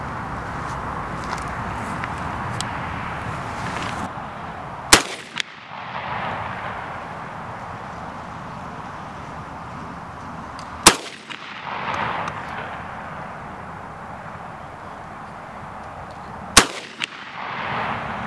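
Three sharp, loud shots from a VPO-205 rifle spaced several seconds apart, each cracking over a steady background hiss and followed by a brief echo.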